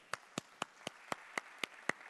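Audience applause at a GEN Summit 2019 journalism conference session, heard as eight sharp, evenly spaced hand claps that sound like one nearby clapper rather than a full crowd, with a faint room hum between them and no talking.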